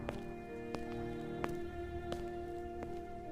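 Rain drips through a wet forest, a soft steady patter with a few sharper individual drops falling at irregular intervals, faint and without voices.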